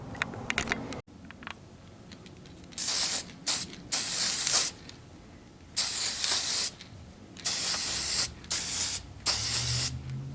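Aerosol spray paint hissing onto Jeep Wrangler Unlimited tow hooks for a first coat, close bursts of several seconds each separated by short pauses, with a click of the can before the spraying begins.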